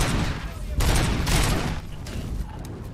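Bursts of SMG fire from the RoboCop: Rogue City video game, several loud rapid volleys in quick succession, close and punchy, with a voice partly mixed underneath.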